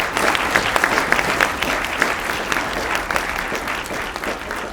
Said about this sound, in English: A round of applause again for Frank.